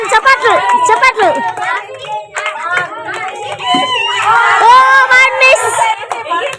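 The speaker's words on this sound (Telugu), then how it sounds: "కమాన్ చప్పట్లు చప్పట్లు." A group claps hands during a party game at a New Year's Eve gathering. Scattered clapping runs under constant, lively talk and children's voices.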